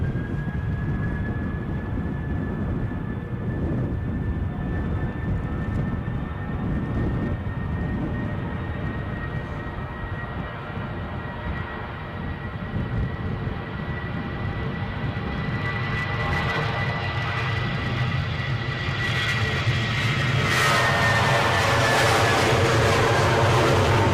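A plane passes at Edinburgh Airport on a gusty day, a rising engine whine over a steady wind rumble that grows louder toward the end.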